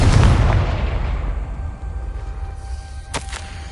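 A loud blast from the Confringo fire spell in the game Hogwarts Legacy opens with a heavy boom, trails off into a rumbling tail, and is followed by a sharp crack near the end.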